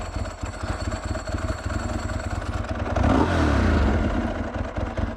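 A Ducati 999s motorcycle engine revs hard during a wheelie, a loud, close, rasping roar that swells and holds for a couple of seconds before easing back to a steady throb.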